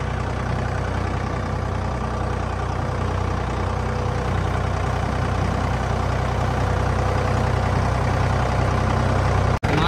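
Tractor engine running steadily in a muddy vineyard after unseasonal rain, the tractor stuck, a loud, close, continuous low rumble that holds for about ten seconds and cuts off abruptly at the end.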